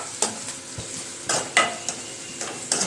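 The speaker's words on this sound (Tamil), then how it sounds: "இதெல்லாம் வதங்குது." Ingredients sauté in a pan for a South Indian thalicha sapadu dish, a low frying sizzle broken by several sharp scraping stirs of a spoon, close and moderately quiet, with no speech.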